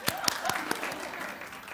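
Audience clapping at a live comedy show in a hot dog restaurant, starting with a few distinct claps and swelling into a short, dense burst of applause that holds steady and close for under two seconds.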